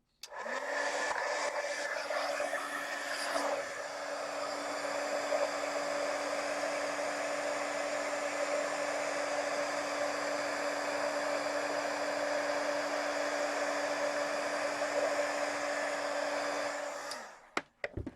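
A handheld heat tool blows steadily to melt embossing powder, a loud continuous whirring hum with a steady tonal whine lasting about seventeen seconds before it clicks off.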